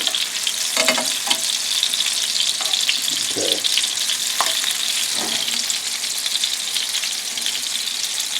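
Sriracha chicken meatballs fry in a pan with a loud, continuous bright sizzle, while a few soft knocks and scrapes sound as they are turned, close up and without speech.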